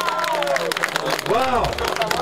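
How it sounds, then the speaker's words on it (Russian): A crowd applauds and cheers for amateur fighters pulled from the audience after a ring bout, with dense steady clapping and hubbub, plus a loud voice shouting over it. "Дайте аплодисменты этим мужчинам!"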